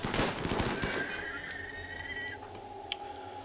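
Gunfire in the RimWorld video game, a dense burst of overlapping shots at the start that thins into scattered pops, with a sustained whistling tone and a faint ringing tail.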